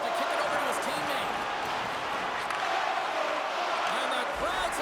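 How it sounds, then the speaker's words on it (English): Arena crowd in the NHL 25 hockey video game cheers and roars steadily at the end of a hard-fought game, a dense continuous wall of noise with play-by-play commentary talking over it. "the crowd's on their feet, saluting the team after a hard-fought effort this evening"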